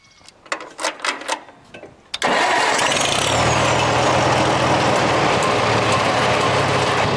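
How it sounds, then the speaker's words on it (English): A few quiet knocks and clatters, then an oil-burning 1948 Farmall M tractor engine fires up abruptly and keeps running at a loud, steady, rough chug. "Hopefully the sound of this engine burning oil isn't too loud for you."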